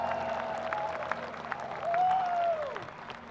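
Festival crowd at Vestrock applauding a band, a moderate spread of clapping beneath a held tone and some voices.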